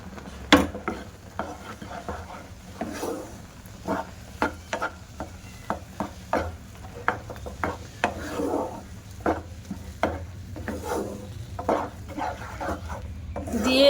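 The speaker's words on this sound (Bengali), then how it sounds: "এবার যে সুজিটা আমি ভাজা করে রেখেছিলাম ওই সুজিটা দিয়ে দেব। দিয়ে হালকা হালকা করে নেড়ে দেব।" Roasted semolina is stirred into milk in a pot over a low flame on a stove, giving soft, irregular scraping and rubbing strokes with a few sharper knocks against the pot, faint and spread over a quiet background.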